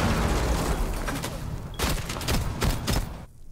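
Rapid gunfire from a player shooting in a video game, a dense burst of overlapping shots, loud and close, with bursts clustering toward the end before a sudden drop.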